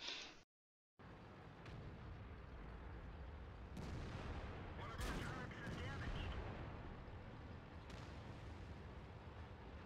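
Tank cannon fire in World of Tanks, a shot from a Jagdtiger tank destroyer hitting the player's Object 140, heard as a few heavy booming blasts over a steady loud rumble of battle and engine noise.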